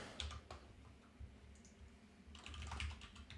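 Keys clatter on a computer keyboard during a lecture on iteration and strings, with two short bursts of clicking separated by a quieter gap, all fairly faint.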